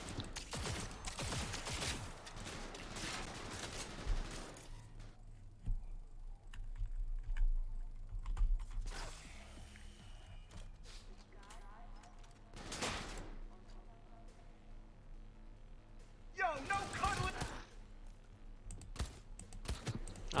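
Bursts of gunfire in Cyberpunk 2077, sharp volleys clustered near the start, midway and near the end, loud against a quieter game background.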